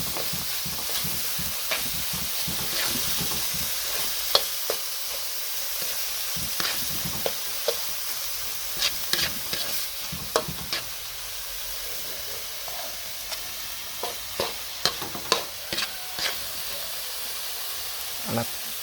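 Wolffia and minced pork stir-fried in a hot pan give a steady, close sizzle with scattered clicks and scrapes from stirring that run throughout.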